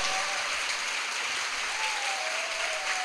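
A church audience at a Catholic gathering applauds in a steady, continuous wash of clapping, moderately loud, with no speech over it.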